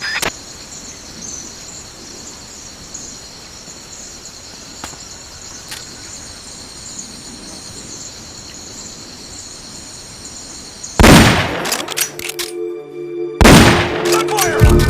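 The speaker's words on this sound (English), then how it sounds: "Gunfire!" Gunfire in the video game Metal Gear Solid Peace Walker, a burst of shots breaking out near the end after a long stretch of steady insect-like chirping ambience.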